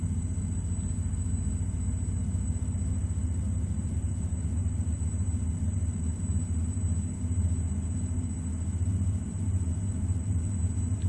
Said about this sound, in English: Start number 1, which actually starts up faster when the other engine's running.